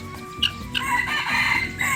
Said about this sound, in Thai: อันนี้ไก่ต็อกนะครับ